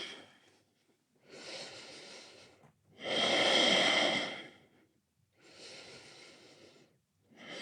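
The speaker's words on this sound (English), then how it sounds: "Breathe." A yoga practitioner holding downward dog breathes slowly and deeply, with long audible inhales and exhales in a steady rhythm of about four breaths, close and clear with no talking.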